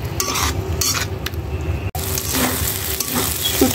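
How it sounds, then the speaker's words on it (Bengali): Dried shrimp and spice masala sizzling in hot oil in a pan, with steady close frying crackle and occasional stirring scrapes throughout, no voices. "শুটকিটা মশলাটা কষিয়ে একবারে তেল বের করে ফেলতে হবে"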